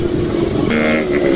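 A motorcycle engine idles warm with corn cooking oil mixed into its engine oil, a steady close-up running drone with a brief higher-pitched rise near the middle.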